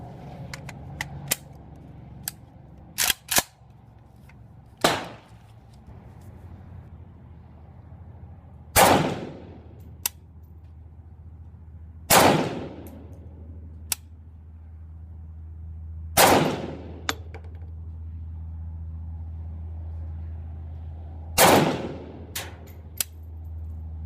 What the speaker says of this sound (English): let's take a few shots with each rifle and see how they do